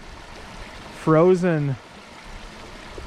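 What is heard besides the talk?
water flowing around frozen rocks in a stream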